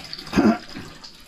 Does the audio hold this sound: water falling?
yes